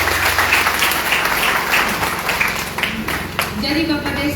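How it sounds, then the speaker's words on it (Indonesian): Applause from a village gathering welcoming a regional council member at a visit to the elected regent, a steady burst of clapping lasting several seconds, mixed with crowd noise and a voice near the end. "tepuk tangan dulu"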